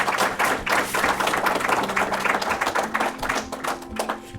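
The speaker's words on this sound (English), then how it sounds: "At this juncture, I'd like us to just clap for Margaret" A conference audience claps in a steady, dense round of applause lasting several seconds, close and fairly loud with no voices over it.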